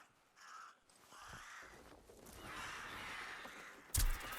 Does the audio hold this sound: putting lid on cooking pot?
no